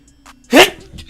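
A single sharp sneeze from a person at an Eagles vs. Cowboys football watch party, brief and loud and close, with faint background sounds around it.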